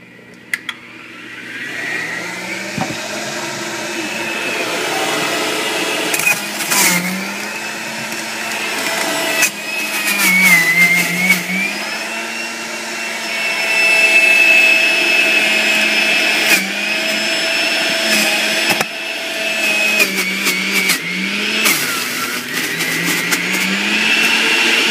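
A juicer runs continuously while carrots are fed through it, a loud motor whine with rising and falling pitch, repeated grinding crunches, and brief clunks as pieces drop in, heard close with no talk.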